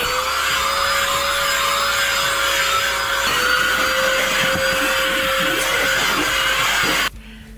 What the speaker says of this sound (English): It's our little handheld hoover.